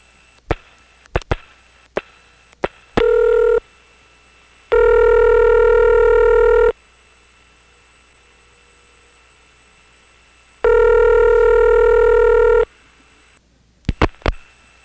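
A 1977 senderized XY step-by-step telephone exchange in Dale City, Virginia, handles a call: sharp relay clicks, then steady loud tones in two long stretches, and more clicks at the end.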